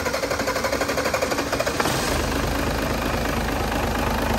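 A HOWO 371 HP diesel truck engine runs on a test bench, with a steady low rumble and rhythmic clatter up close that settles into an even, continuous drone.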